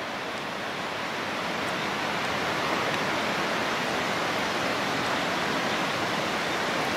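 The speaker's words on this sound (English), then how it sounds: "Yep, there's the river down there" Steady broadband rush of a mountain river flowing in the Orobie Mountains, a continuous even roar of water heard from a distance without pauses or voices.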